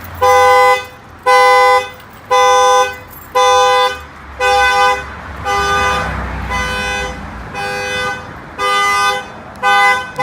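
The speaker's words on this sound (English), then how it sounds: "If somebody tries to bust the window to try to get in, the alarm will fire off." A loud 2016 Chevy Silverado car alarm blares nearby, repeating honking electronic blasts in a steady rhythm, with a continuous wailing tone in the middle.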